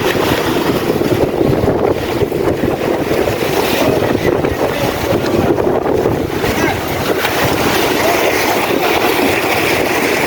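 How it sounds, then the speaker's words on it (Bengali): A hard downpour with wind in Mecca, loud and unbroken, rain roaring and gusts thumping against the microphone throughout, with no clear speech on top. "দেখুন জোরে পড়তেছে, জোরে জোরে বৃষ্টি আসতেছে।"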